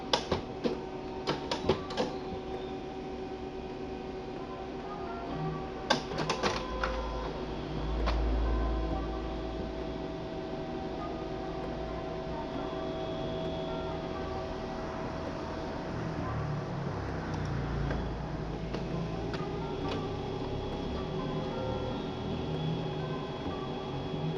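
An HP LaserJet printer runs a test page on heavy 90–105 g transfer paper, with a few sharp clicks at the start, then a low mechanical whir and feed rumble that hums on quietly.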